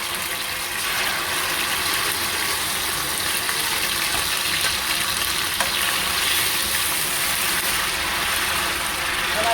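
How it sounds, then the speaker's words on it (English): Tomato frying in a pot of palm oil and vegetable oil for egusi soup, a loud, continuous hissing sizzle that stays even for nearly ten seconds with no talk over it. "Pour in my tomato, I let it fry before I add more."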